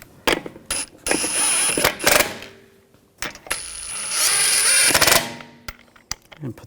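Rattling ratchet and impact-tool whirs as lug bolts are threaded and snugged onto a 2007-2013 BMW 328i wheel, in two long bursts with clicks and metallic clatter between.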